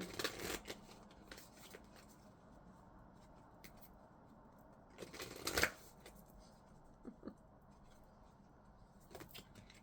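Deck of oracle cards shuffled for a card reading, quiet and close, with soft riffling bursts at the start and a stronger flurry midway, then scattered light flicks of the cards.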